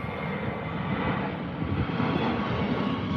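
Wizz Air jet airliner departing Birmingham airport, a steady broad engine roar at moderate distance, fairly faint and continuous without voices.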